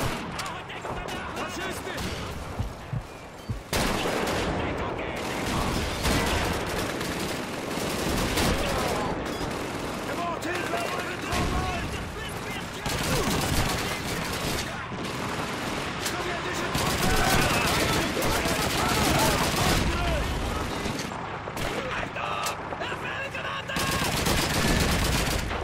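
Gunfire in Call of Duty 2, sustained battlefield shooting with rifle cracks, automatic bursts and distant booms running almost continuously, with voices talking over it.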